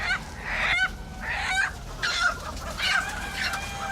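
Chickens cluck inside a poultry house, a busy overlapping flock of short nasal clucks and squawks in irregular bursts, close and steady with no talking.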